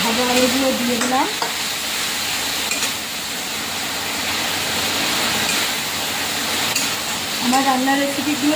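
Fried potatoes are stirred into a sizzling pan of chitol fish curry, giving a loud, steady frying hiss with scraping stirs throughout. A voice is heard briefly at the start and end.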